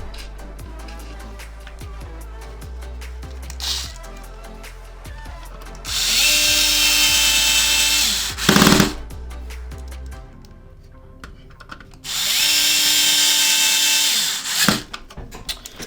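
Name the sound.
driving screws with a T9 Torx screwdriver into an Xbox One X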